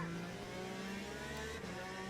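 Race car engines in the Le Mans Ultimate racing game during a GTE race, a steady, faint engine drone with harmonic tones and a slight shift midway.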